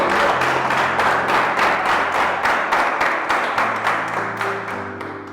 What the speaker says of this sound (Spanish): eleve fuertes aplausos al Rey